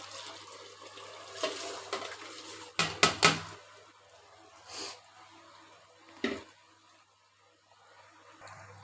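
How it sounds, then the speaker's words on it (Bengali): Polao rice poured into a pot of cooked chicken, a few sharp rattling bursts and soft scraping clatters close by, separated by quiet stretches with a low background hum. "এখন আমি পোলার চালটা দিয়ে দিব।"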